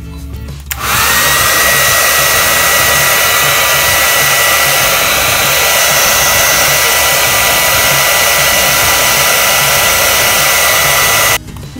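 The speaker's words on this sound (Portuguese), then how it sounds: "Secador de cabelo." A hair dryer runs steadily at close range for about eleven seconds with a constant loud whoosh and a faint high whine, switching on near the start and cutting off just before the end, with no talking.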